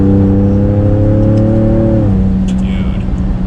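A Ford Raptor pickup with a 3.5 engine and a 10-speed gearbox accelerates hard, a loud close engine drone climbing steadily, then dropping sharply at an upshift about two seconds in before pulling on, with a voice faint underneath.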